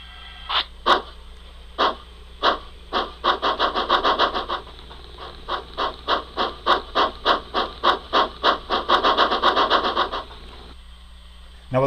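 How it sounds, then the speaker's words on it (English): A Tsunami2 steam locomotive sound decoder chuffs in a steady run of sharp exhaust beats that quicken as the wheels slip and break loose under throttle, then the bursts thin out, with a constant mechanical hum underneath. "you hear the wheels break loose, and we've got the sounds in there that will hear the wheels break loose"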